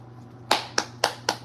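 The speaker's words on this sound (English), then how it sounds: "Give her a clap, man." Four sharp, separate hand claps come about a quarter second apart, close and fairly crisp over a quiet room.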